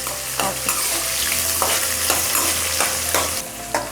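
Onions sizzle in hot oil while a utensil stirs and scrapes the pan in repeated strokes, close and fairly loud.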